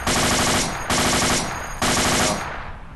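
Three loud bursts of high-caliber machine gun fire in the Ace 2 Half-Life 2 mod, each about a second long and fading into a brief ringing tail before the next burst starts.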